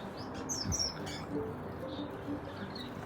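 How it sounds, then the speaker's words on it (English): Faint, high chirps and tweets from canaries, star finches and zebra finches in an aviary sound over a soft background hum, sparse and scattered. "All the canaries, my star finches, zebra finches."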